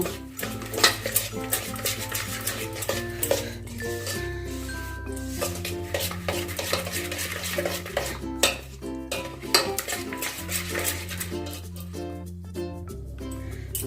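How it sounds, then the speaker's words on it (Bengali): Oil and sugar are mixed by hand for an eggless Christmas fruit cake, with a spoon or whisk repeatedly scraping and clinking against the bowl in a busy, rhythmic clatter, close and fairly loud, with no talk. "পাঁচ মিনিট ভালো করে আমি চিনির সাথে তেলটা মিক্স করব"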